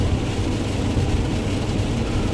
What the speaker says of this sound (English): If you couldn't tell, it's raining this morning.